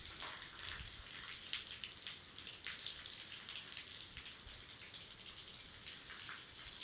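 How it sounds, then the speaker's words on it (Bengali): Continuous heavy rain in Laxmipur, a steady hissing downpour with dense pattering and splashing, unbroken and fairly even in level, with no voices. "টানা বৃষ্টি, কাল সকাল থেকে টানা, এখনও বৃষ্টি"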